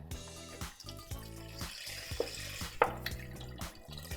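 Beef broth pours from a carton into a cooking pot, a soft continuous liquid stream with small splashes and gurgles, heard up close and fairly quiet.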